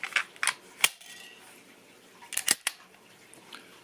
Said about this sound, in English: throw an empty mag in there